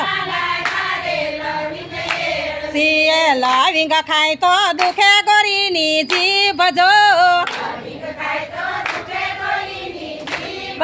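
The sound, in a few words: group clapping hands along to devotional song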